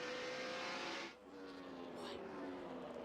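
NASCAR Winston Cup stock car at the 2002 New Hampshire 300 roaring past at speed, a loud engine rush that drops away after about a second, with race commentary over it.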